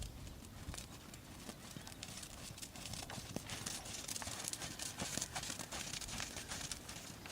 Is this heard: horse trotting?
yes